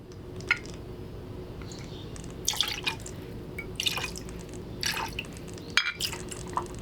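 Triple sec is poured for a classic margarita on the rocks, a faint trickle and scattered liquid drips over a low steady background hum, with no talking.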